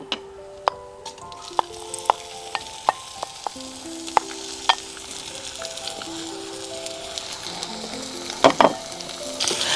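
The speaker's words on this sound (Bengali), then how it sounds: "তেলটা গরম হয়ে যাওয়ার পর মাছগুলো অল্প করে ভেজে নিই।" Small mourola fish frying in hot mustard oil, a steady close sizzle with crackling pops and scattered spatters, a few sharp taps of a utensil on the pan, and a louder burst of crackle near the end.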